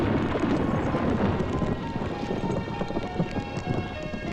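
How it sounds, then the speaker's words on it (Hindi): A storm with rain pours steadily and loudly, with low rumbling thunder rolling underneath and irregular heavy patters and thuds in the mix throughout. "कमाल का तूफान आया यहाँ।"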